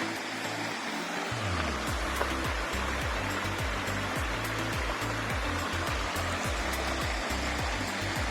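Water rushes steadily over rocks in a small mountain stream near a campsite, a continuous close splashing and gurgling with a low rumble throughout.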